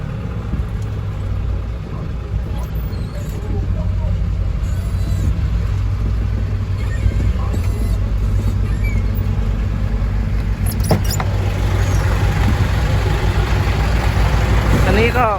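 A Fuso six-wheel truck with a CM50 engine runs at a steady, loud idle with a constant low rumble, and people talk over it.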